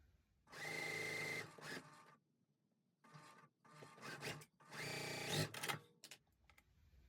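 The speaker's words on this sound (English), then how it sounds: "let's go ahead and finish sewing this up" A sewing machine stitches quilt block rows for a checkerboard basket block, running in several short bursts of whirring with brief pauses between, close and clear.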